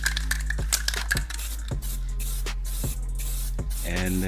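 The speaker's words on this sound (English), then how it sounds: "The paint sprays out evenly, smoothly, and more stable than I expected." Paint sprays from a refilled aerosol can pressurized to about 35 psi, making close hissing bursts broken by small clicks and rattles.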